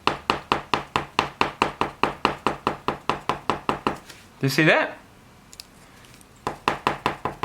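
Fast, steady tapping of a pen on paper, dozens of light clicks in a rapid machine-gun rhythm, briefly interrupted by a short spoken phrase before resuming.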